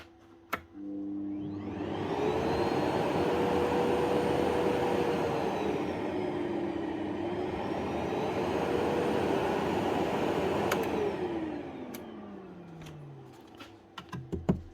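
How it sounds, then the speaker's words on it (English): A Festool workshop vacuum, just repaired, runs with a steady roaring whoosh and a faint whine for about twelve seconds after a click. It then winds down, and a few light knocks follow. "On Festool Hoover."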